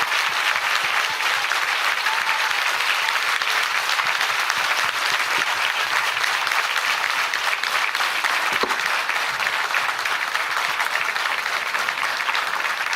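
Sustained audience applause at a women's conference, dense and even clapping from a large crowd that holds steady and fairly loud throughout, with no pauses and no voices over it.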